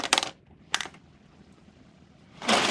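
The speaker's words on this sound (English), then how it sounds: "All my pencils rattling about in there." Pencils rattle inside a Whitman's sampler tin: three loud bursts of clattering, two short ones close together at the start and a longer shake at the end, with quiet gaps between.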